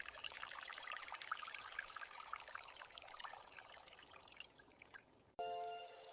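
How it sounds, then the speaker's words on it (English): Water pours steadily into a cooking pot with rice, a close, splashy trickling stream that runs for about five seconds before stopping abruptly, followed by a brief different sound. "Now add more water this time. Yes, more water is important."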